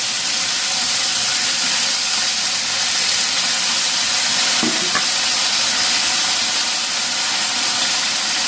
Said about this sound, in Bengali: এদিকে কড়াইও গরম হয়ে গেছে,